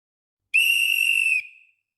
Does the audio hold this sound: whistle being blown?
yes